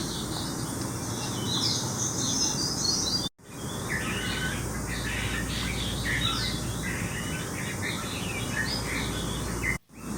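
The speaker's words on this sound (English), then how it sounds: "recordings of bird songs that could be heard" Recorded songs of native Guam birds, varied chirps and trills, play steadily over a dense insect-like hiss, broken twice by brief cuts of silence.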